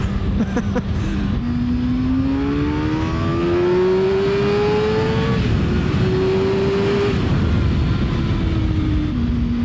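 A Kawasaki Ninja ZX-6R sport motorcycle engine holds a loud steady drone, its pitch climbing as it revs, then dropping and rising again through downshifts, heard up close and continuous.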